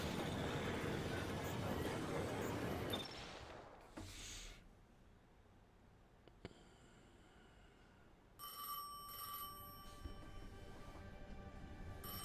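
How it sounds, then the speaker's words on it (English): An old telephone ringing in a video game, a bright electronic bell trill that comes in late over low ambient game noise. "If I ever see an old phone ringing somewhere"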